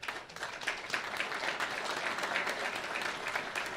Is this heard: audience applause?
yes